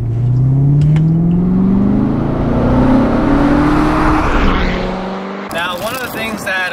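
A 2016 Chevrolet Corvette Stingray engine drones loudly from inside the car as it is driven, its pitch climbing under acceleration. It then drops away abruptly and a voice begins talking.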